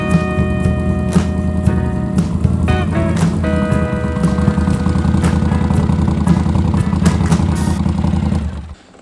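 A 1979 Honda CX500 motorcycle idles steadily and close, its engine throbbing with an even, loud mechanical rhythm and a few clicks before it cuts off abruptly near the end.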